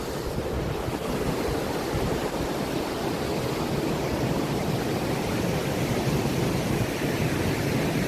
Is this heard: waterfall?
yes